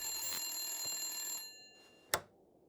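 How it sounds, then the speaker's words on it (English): An old-fashioned telephone bell rings in the horror game The Suicide of Rachel Foster, a bright metallic trill that stops abruptly, followed by a short silence and one sharp knock or click, heard alone without speech. "Answer the damn phone already."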